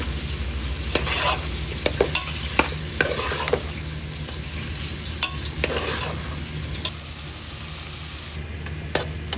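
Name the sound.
frying and stirring tomatoes in a pan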